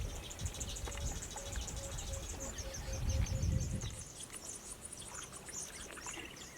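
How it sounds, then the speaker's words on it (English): Birdsong chirps and trills by a river in Zambia, with water lapping and paddling sounds close by, a steady outdoor ambience. "the many species of birds singing next to us"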